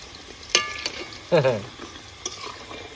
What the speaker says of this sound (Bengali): কিরম সুন্দর কাঠের জালে টিপ টিপ করে ভাজা হচ্ছে